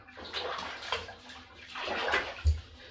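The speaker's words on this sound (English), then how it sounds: "That's Ace having a bath." A pet dog being bathed in a household bathtub, with water sloshing and splashing in irregular bursts close by, plus a low thump near the end; no talking.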